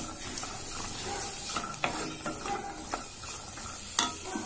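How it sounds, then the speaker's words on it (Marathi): Cauliflower and other vegetables for pav bhaji stirred in a pan, a soft sizzle under repeated clinking and scraping of a spoon against the metal, close and fairly quiet. "आता हे सगळं थोडस मिक्स करून घेऊया."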